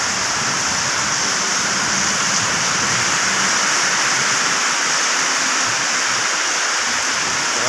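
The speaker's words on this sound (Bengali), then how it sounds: "দেখেন দর্শক বৃষ্টি হইতে আছে" Heavy monsoon rain pours down in a town in Noakhali, Bangladesh, heard from under cover beside a hotel parking area. It is a loud, unbroken hiss of downpour that runs steadily the whole time.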